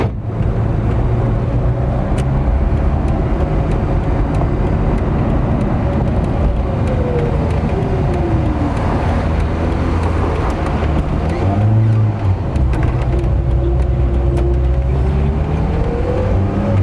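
A Renault 11 GTL with dead front shock absorbers drives again after sitting for 13 years, its engine droning steadily and loudly close by, with pitch shifts as it accelerates and changes gear.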